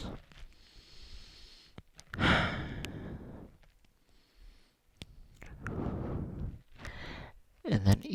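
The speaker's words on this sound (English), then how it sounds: "Three more deep breaths." Slow deep breaths during a vinyasa yoga flow, long audible sighing exhales and inhales spaced a few seconds apart, close and fairly quiet.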